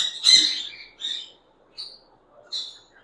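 Green ring-necked parakeet chicks at a bird shop in Islamabad give four short, high chirps spaced unevenly over a few seconds, close and fairly clear against near silence.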